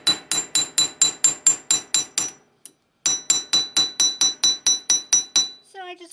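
Heated brass on a bench block is textured with a hammer: a fast, even run of sharp metallic strikes with a ringing tone, a brief pause, then another rapid run of blows, close and loud.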